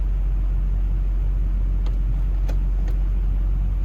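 A Duramax diesel truck with an Allison transmission idles with its e-brake on while the shifter is moved through the gears, giving a steady low engine rumble with a few faint clicks.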